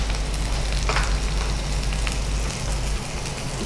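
Coriander leaves and mint frying in a pan for chicken green masala, a steady, dense sizzle that stays close and fairly loud throughout, with no voices.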